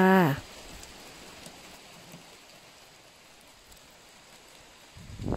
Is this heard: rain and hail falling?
yes